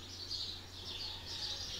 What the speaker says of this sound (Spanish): Escuchen la sinfonía del canto de la gran cantidad de pájaros